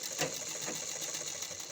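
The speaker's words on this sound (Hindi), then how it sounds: "ऐसे कर करके आराम से थोड़ा थोड़ा हल्की हल्की सिलाई चलाते जाओ और लगाते जाओ" An electric sewing machine stitches fabric at a slow, gentle pace, giving a steady whirring hum with a faint repeating needle pulse. It runs close and alone, with no one talking.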